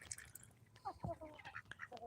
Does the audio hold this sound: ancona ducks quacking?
yes